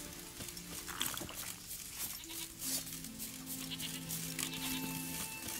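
Goats bleat in the video game The Witcher 3, a steady run of animal calls over an ambient in-game soundscape with sustained tones, with no talking.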